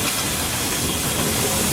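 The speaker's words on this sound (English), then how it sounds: "Wagons were deposited in the exchange sidings alongside the main line and were tripped by P&G's own locos along a short branch." Fireless steam locomotive on the Procter & Gamble soap works branch line, hauling wagons with a loud, continuous close hiss of steam and rolling rumble, no voices.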